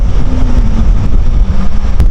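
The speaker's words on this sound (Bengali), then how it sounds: "প্রচণ্ড হাওয়া।" Strong sea wind buffets the microphone aboard a ferry crossing open water, a steady loud roar and rumble throughout with the low drone of the vessel beneath.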